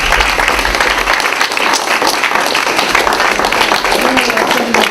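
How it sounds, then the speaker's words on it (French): Lively applause fills a library meeting room after a talk, with many hands clapping steadily and loudly throughout and only faint voices underneath. "j'aimerais bien qu'on les applaudisse, puis même la bibliothèque"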